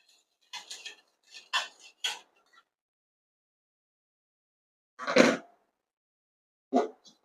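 A spoon stirs sugar into coconut cake batter in a bowl, making brief scraping clinks in a few short bursts separated by silence.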